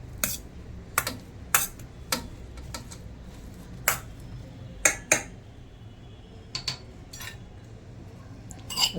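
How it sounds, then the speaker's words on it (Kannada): Boiled potatoes being mashed for vada pav, heard as a series of sharp, irregular clinks and taps of a utensil against a metal pot, close by with no talking. "ಬೇಯಿಸಿದ ಬಟಾಟೆಯನ್ನು ಹೀಗೆ ಸ್ಮ್ಯಾಶ್ ಮಾಡಿಕೊಳ್ಳಿ."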